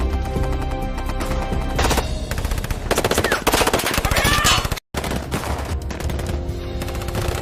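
Machine gun fire in a film shootout between mercenaries and mafia men, loud sustained bursts of rapid automatic gunfire with dense overlapping shots and crashes, cutting out briefly before resuming just as intensely.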